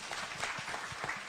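Audience at a World MSME Day event at KICC in Nairobi applauding, a steady wash of many hands clapping at moderate volume throughout, with no talk over it.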